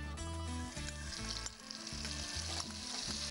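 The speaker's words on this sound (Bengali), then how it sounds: "এই গরম তেলে এই ঘোলটা দেব" Buttermilk hits hot oil in a pan and sizzles loudly and steadily up close, with a pulsing rhythmic undertone throughout.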